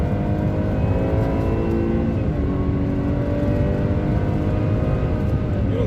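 Chevrolet Traverse seven-seat SUV with a V6 engine pulling steadily under acceleration, a continuous smooth drone with rising harmonic tones, heard from inside the cabin and present throughout.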